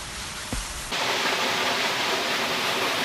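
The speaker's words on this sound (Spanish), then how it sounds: "Una cascada más, la de Romerillo." The Romerillo waterfall in the Cariacu area of Cayambe, Ecuador, pours as a loud, continuous, broad roar of falling water that swells after a brief softer opening with a faint thump.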